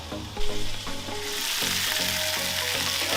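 Bacon-wrapped chicken frying on a Weber Baby Q gas grill, a steady close sizzle and crackle that swells after the first second and holds loud and even, with a few brief tonal clinks early on.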